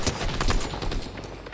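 Gunfire in the video game Fortnite comes as a fast, loud burst of repeated shots in a tight rapid rhythm, close and punchy, with no talk over it.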